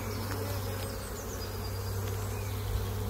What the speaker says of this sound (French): les butineuses sont en train de rentrer, de s'amasser dans la ruche